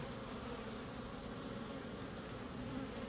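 Honeybees buzz around an opened hive on a farm in a dense, continuous hum, steady and fairly quiet, with no voices.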